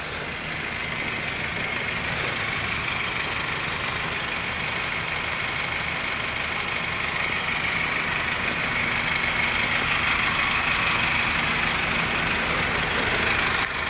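A horizontal drilling machine's engine runs outdoors on a November day, a steady, loud mechanical drone with low rumble that holds unchanged throughout, with no voices.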